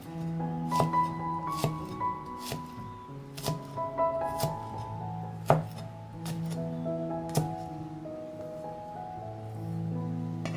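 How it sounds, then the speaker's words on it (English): Garlic cloves chopped with a knife on a board, a sequence of sharp, evenly spaced taps close to the listener, with a light background hum and no talking. "Ready and cut 2 cloves of garlic."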